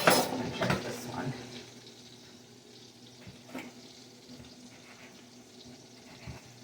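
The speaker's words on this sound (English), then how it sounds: "my water is boiling for my eggs" A pot of water boils for eggs on a home kitchen stove, a soft steady bubbling hiss after a brief clatter of pans, with someone talking over it.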